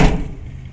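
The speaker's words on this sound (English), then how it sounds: "How about if I close the door?" A car door shuts with a single short thud right at the start, close by, followed by a quick fading decay.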